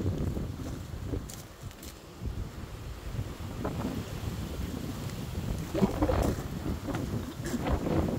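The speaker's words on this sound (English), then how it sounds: "It's really, really windy." Strong gusty wind blows outdoors on a day of 35 mph wind while hand-dyed yarn hangs out to dry, loud buffeting rumble on the microphone throughout with scattered rustling, and no talking.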